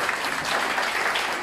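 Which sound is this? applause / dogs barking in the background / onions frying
applause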